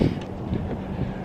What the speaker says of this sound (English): I'm sorry if it's a little bit windy.